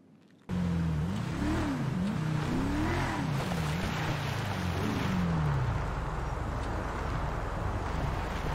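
A car engine in the video game GTA Online, rising and falling in pitch as it revs and shifts through gears, steady and close, then settling into a constant drone.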